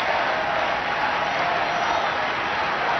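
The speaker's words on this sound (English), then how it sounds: "takes the acclaim of the crowd beneath him" A huge crowd in St Peter's Square acclaims the newly elected Pope Francis, Argentine Cardinal Bergoglio, in March 2013, making a steady, dense roar of cheering and clapping that holds unbroken and loud throughout.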